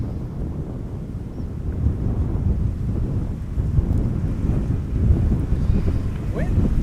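Wind roars in gusts across the microphone at Amsterdam Schiphol Airport ahead of a thunderstorm, a steady low rumble throughout with no clear voices.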